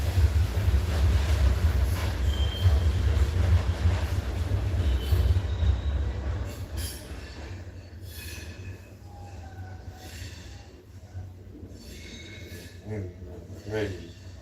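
A train passes, starting as a heavy low rumble of rolling cars, then thinning into high metallic wheel squeals and scattered screeches as it moves off, with voices faintly audible underneath.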